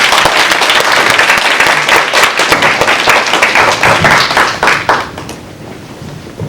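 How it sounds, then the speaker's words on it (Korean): An audience applauds after a talk at an orientation event for an advertising club, dense clapping that holds steady for about five seconds and then thins and fades. "다시 한번 큰 박수 부탁드리겠습니다"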